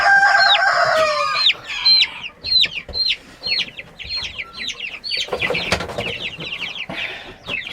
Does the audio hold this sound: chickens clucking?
yes